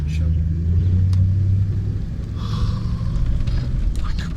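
A car pulls away hard after a gearbox repair, the kickdown now engaging, its engine rumbling low and close.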